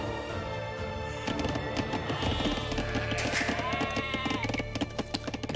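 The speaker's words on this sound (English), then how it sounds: "I'm very happy those guys got me all those sheep." Sheep bleat repeatedly in Age of Empires II, several calls rising over the busy game sound effects, with clip-clop and other unit noises in the background.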